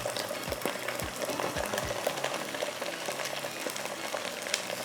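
Cumin, ginger, garlic and crushed chillies frying in hot oil for palak paneer, a steady close crackle with a few soft stirring scrapes and clinks, no talk.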